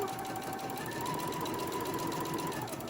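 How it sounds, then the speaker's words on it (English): A sewing machine stitches a zippered pouch in a steady, fast, even whirring run, close and moderately quiet, with no talking. "And I'm gonna sew"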